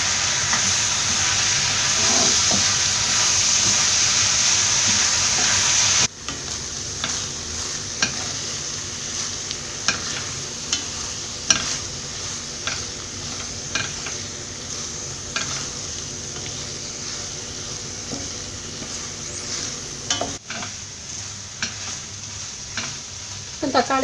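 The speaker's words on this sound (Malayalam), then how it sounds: "ഇനി തക്കാളിയൊക്കെ നന്നായിട്ട് വെന്തുടയുന്നവരെ വഴറ്റിയെടുക്കാം." Tomatoes and curry leaves sautéing in a pan for Kerala-style mutton curry, a steady close sizzle with repeated stirring scrapes and clinks throughout, no voices.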